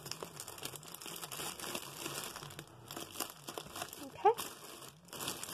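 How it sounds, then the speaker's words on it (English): Transparent tape being applied and pressed down on a paper craft, with soft crinkling and rustling throughout and one sharper crackle near the end, under a person talking quietly. "we're going to do the other side and tape that down as well."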